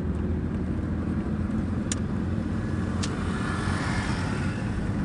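A car on wide tyres pulls onto a highway, giving a steady, close road rumble and engine drone throughout, with a couple of faint high ticks and no talking.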